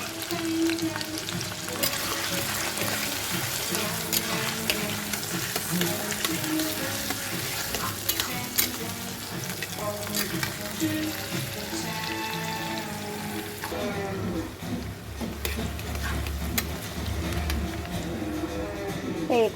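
Chopped onion and tomato dropped into hot oil, frying with a loud, continuous sizzle and crackle that settles slightly toward the end.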